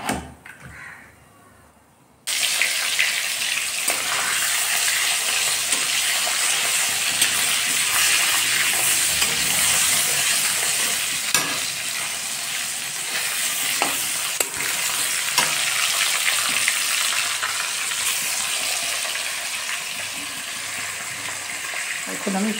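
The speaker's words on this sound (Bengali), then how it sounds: "এখন আমি সব মাছ ভেজে নেব।" Fish fries in hot mustard oil in a home kitchen pan, a loud steady sizzle that bursts in after a quiet start and crackles on with occasional stirring clinks and brief speech.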